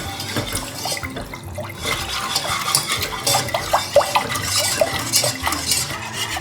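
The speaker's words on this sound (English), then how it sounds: "I simply keep mixing until this bechamel sauce thickens" A whisk stirs béchamel sauce in a pan while milk is poured in, giving steady close scraping and sloshing with light clinks of metal against the pan throughout, no voices.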